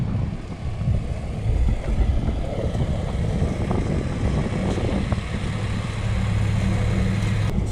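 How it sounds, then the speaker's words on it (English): A John Deere tractor drags a grader over a greyhound racing track to smooth the surface, giving a steady low engine rumble mixed with wind buffeting. "It's just a John Deere tractor, what I like to call it the Zamboni."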